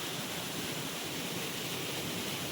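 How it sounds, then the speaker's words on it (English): Prut Falls, a 40-metre waterfall at Lyngksiar village in Meghalaya, roars in a steady, dense broadband rush that stays loud and unchanging throughout, with no voices over it. "So this waterfall is known as Prut Falls with a height of 40 meters"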